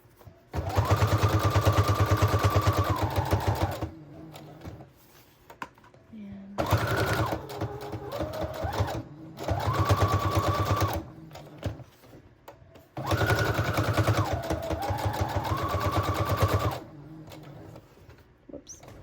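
A sewing machine runs a straight stitch through patchwork fabric for a junk journal, whirring loudly in three long bursts with short pauses between, a faint voice under the quieter stretches.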